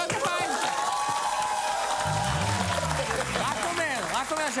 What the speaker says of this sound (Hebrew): מוני וברבא, מחיאות כפיים.